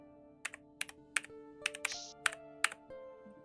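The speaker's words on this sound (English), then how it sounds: "I'm gonna type endless into the typewriter." Crisp, sharp keystrokes from a typewriter in an adventure game scene, about eight separate clacks in an uneven rhythm with a brief zipping slide partway through, clear against a soft humming background.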